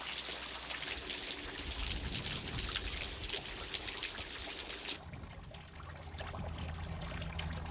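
Water flows down a rocky ravine on Fuerteventura, a continuous close pouring and trickling rush that softens slightly partway through, with no voices.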